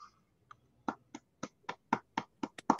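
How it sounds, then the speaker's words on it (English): A round of applause at an online general meeting: about a dozen separate claps, sparse and irregular at first, then steady and fairly close, with no talk over them. "give John a round of applause and thanks"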